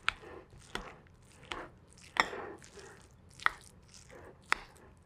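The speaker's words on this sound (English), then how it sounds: "Now I'm just gonna take a spoon and just kind of like mash these potatoes." Soft, wet squishing and occasional sharp clicks of a spoon mashing peeled potatoes in a bowl, irregular and quiet, with about half a dozen distinct strokes.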